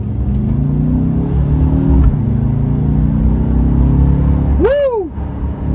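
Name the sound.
Mercedes-Benz CLA 250 4MATIC engine accelerating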